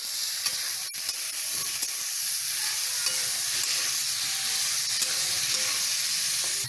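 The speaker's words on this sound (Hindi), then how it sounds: "मसाले को भी मैं भून लेती हूँ, सारे चीज़ को अच्छी तरह से भून लेती हूँ" Spice paste for a hog plum and green chilli curry frying in a pan, a continuous hissing sizzle broken by occasional stirring scrapes and clinks, no speech.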